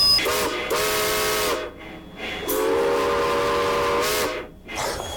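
A steam train whistle blows in two long, loud harmonic blasts separated by a short gap, with hissing steam underneath.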